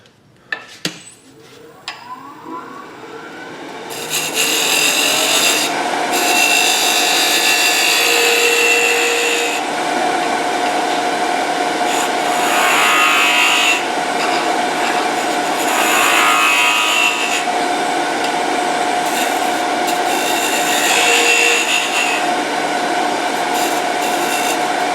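A round nose scraper with a flat ground on it cuts wood on a lathe while turning a ball box, giving a rough scraping, rasping rush that swells and fades with each pass after a few quiet knocks at the start.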